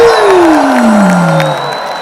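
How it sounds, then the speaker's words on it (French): Festival crowd in Montreal at a Congolese music show, roaring and cheering loudly as a massed wall of voices, with one falling wail sliding down through it, close and sustained. "si on sait applaudir, c'est qu'on sait crier très très fort."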